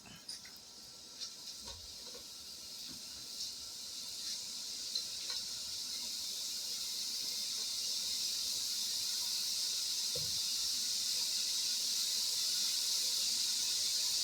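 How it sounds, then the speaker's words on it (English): Hamburger meat, still partly frozen, sizzles in a hot skillet for hamburger soup, a steady bright hiss that slowly grows louder and fuller with a few faint pops, with no talking. "We're going to go ahead and get it in the skillet because as it gets hot and starts to cook"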